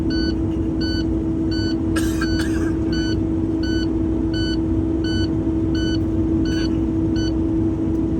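Low air pressure warning in a truck cab beeps in a steady series of evenly spaced electronic tones over a constant idling engine rumble, with a brief hiss of air partway through.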